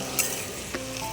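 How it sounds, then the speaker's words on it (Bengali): Diced potatoes frying in a pan with spices while being stirred, a close, steady sizzle with a couple of sharp scrapes of the spoon against the pan. "তো আলুটাকে এই মশলার সাথে কষতে থাকবো যতক্ষণ না সেদ্ধ হচ্ছে।"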